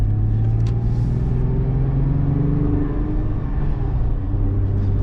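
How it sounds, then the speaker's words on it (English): A 2012 Toyota FJ Cruiser with a 6-speed manual gearbox accelerating at half pedal on a New Mexico road, giving a steady, close, low engine drone and road rumble with no talking. "So I'm just giving it about half pedal, and we're kind of reeling in the Honda here"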